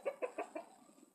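Chickens cluck in a pen, with four short, rhythmic clucks close by in quick succession, then quieter fowl murmuring trailing off.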